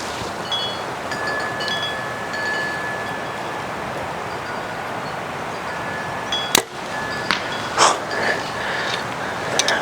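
Strong outdoor wind buffets the microphone in a steady, loud rumble, with a few sharp knocks and rustles near the end; the gusts come during an archery session with a bow.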